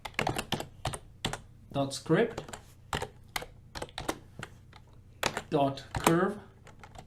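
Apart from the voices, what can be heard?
typing on a computer keyboard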